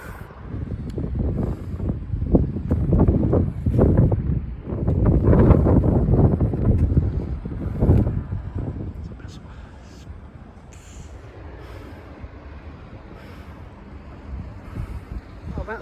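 Blustery, cold wind buffets the microphone on the quayside in Greenock, Scotland, a heavy low roar that swells in gusts and then eases to a steadier rumble, with no speech.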